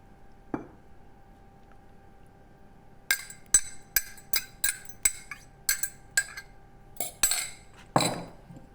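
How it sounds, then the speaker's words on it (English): Courgette slice batter with vegetables being mixed in a dish: a run of sharp utensil clinks and taps against the dish, about a dozen strikes in a loose rhythm, close and fairly clear, with no talking. "And then I just mix it around a bit just to make sure that you've got vegetables right through it"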